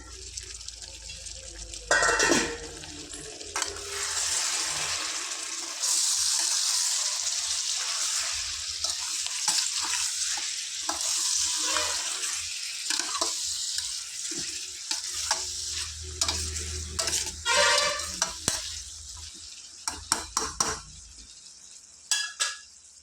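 Tomato egg curry is stirred in a pan on a gas stove set to low, with a soft continuous sizzle, scraping and clinking of the spoon, and occasional taps of a lid, heard close and alone.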